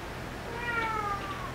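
A cat or kitten at an adoption rescue gives one drawn-out, rising-then-falling meow midway, fairly close, over steady low background noise.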